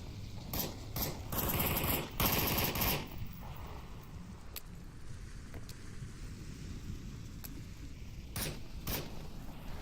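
Two light machine guns fire in the Onward VR game, with dense bursts of rapid automatic shots up close, then quieter scattered shots and distant gunfire over a low rumbling background.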